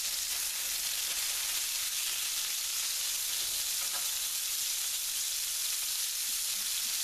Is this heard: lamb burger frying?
yes